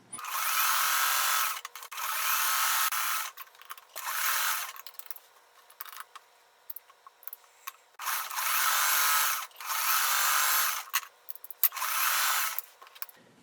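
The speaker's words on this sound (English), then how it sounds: "you're going to sew 1/4 inch on each side of the line" Sewing machine stitching a heart quilt block, sewing a quarter inch either side of a line: several bursts of fast, buzzing stitching separated by brief pauses, close and fairly loud, with no talking.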